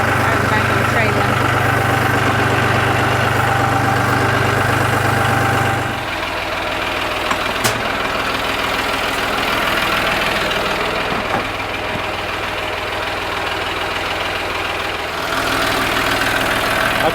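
A tractor engine idles steadily at a farm while an electric fence is set up, a continuous low rumble with a strong drone that drops slightly in pitch partway through and then settles, close by and without talk.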